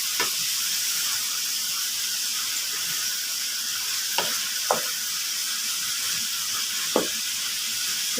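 Chicken liver frying in a pan, Egyptian street-cart style, sizzling with a steady close hiss while a spatula stirs it, scraping the pan in a few short, distinct strokes.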